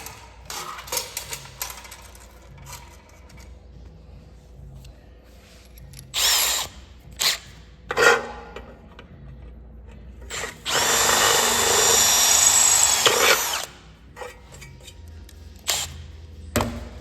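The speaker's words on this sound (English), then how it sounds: "I'll drill it." A power drill whirs in several short bursts into metal, then runs steadily for a few seconds, loud and close, with clicks and handling noise between.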